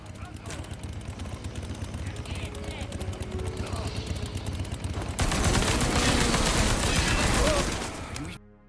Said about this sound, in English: in Resident Evil 4 Remake, there is a rifle that does exist that is not a sniper rifle